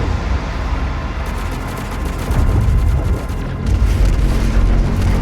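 The BFG 10,000 firing in the video game Doom Eternal, a loud sustained rumbling boom with deep low-end roar that swells twice as crackling bursts build over it.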